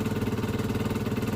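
Gilera DNA scooter engine idling steadily after a fuel pump repair, a close, even mid-pitched putter with a rapid regular pulse and light mechanical clatter, no talking.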